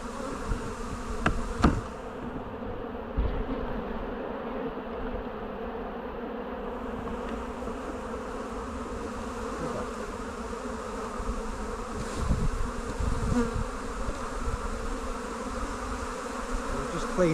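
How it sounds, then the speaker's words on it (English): Honey bees swarm and buzz around an open hive box during a split for swarm prevention, a steady dense drone that fills the whole stretch, close and continuous, with a few faint knocks and handling noises. "Hopefully them bees will start moving on their merry way"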